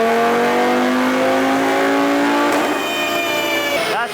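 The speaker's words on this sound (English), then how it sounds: "There she goes, front-wheel drive RS3." A front-wheel drive Audi RS3 on a chassis dyno revs hard and loud, the engine note climbing steadily through a long pull before a gear shift and a final drop as the throttle closes.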